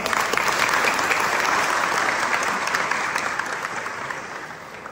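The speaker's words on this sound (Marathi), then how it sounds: "जोरात एकदा टाळ्या वाजवायच्या" A large crowd at a village gathering celebrating the sarpanch's birthday claps loudly and steadily, with dense applause sustained throughout and fading only slightly toward the end.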